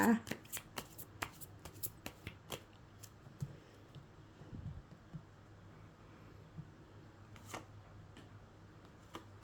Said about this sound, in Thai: ขอเป็นตัวแทนสับไพ่ตัดไพ่ให้คนเกิดวันพุธนะคะ